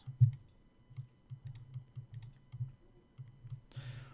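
A computer keyboard typed on in a steady run of soft, muffled key taps, close and fairly quiet, with no one speaking.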